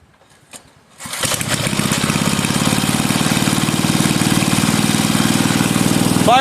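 A Bolens 5 rototiller engine cranks over after a second of quiet, catches and settles into a loud, steady, close-up run with an even chugging pulse that lasts to the end.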